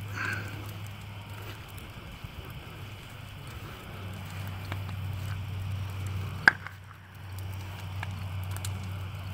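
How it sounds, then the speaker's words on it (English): Logs burn on an outdoor bonfire with a steady, dense crackle like light rain, a low hum underneath and one sharp pop standing out near the end. "People like watching logs burning in the fire with a bonfire"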